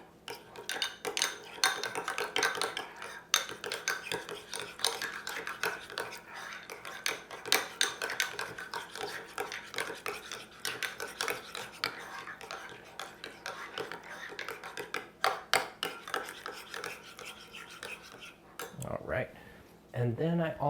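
Plain yogurt stirred in a bowl with a spoon, quiet irregular clinks and scrapes repeating over about twenty seconds, with faint talk at times.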